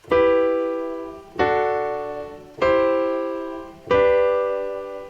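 Four sustained piano chords, each struck once and left to ring and decay before the next, spaced evenly at a slow, steady pace.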